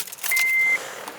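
The power window of an Acura RSX being lowered in a garage, a short steady electric motor whine lasting about half a second, close and alone with quiet room noise around it.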